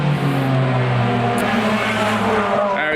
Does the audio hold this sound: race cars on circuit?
yes